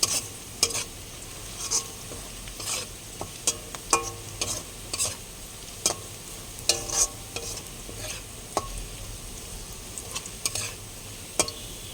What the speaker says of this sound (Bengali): পেঁয়াজগুলোকে মোটামুটি লাল লাল করে ভাজবো।